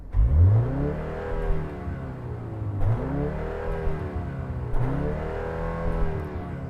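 BMW M135 with a sports exhaust revs up three times in succession, each rise in engine pitch followed by a fall, heard fairly close and alone.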